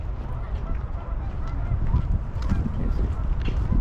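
Geese in Calgary in December honk and gabble continuously in a steady, fairly loud chorus, with overlapping calls and no clear pauses.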